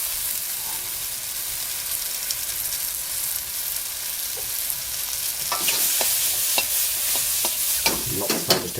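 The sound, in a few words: stir frying oyster mushrooms in oil, tossing in a wok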